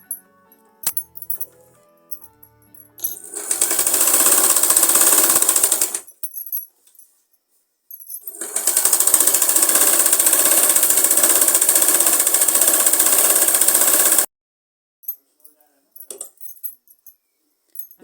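A sewing machine stitches a seam on a girl's umbrella frock in two sustained bursts of rapid mechanical whirring, loud and close, separated by a short pause with small clicks and handling sounds around them.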